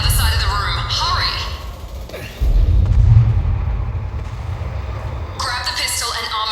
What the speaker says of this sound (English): Shield yourself from the blast.